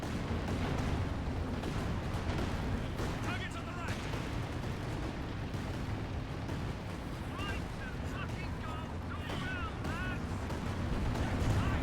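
A rocket launcher fires in the Company of Heroes 2 battle game. A dense, continuous rumble of distant blasts and gunfire rolls on without pause, with a few sharper bursts standing out.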